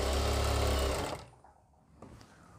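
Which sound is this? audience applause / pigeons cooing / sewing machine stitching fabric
sewing machine stitching fabric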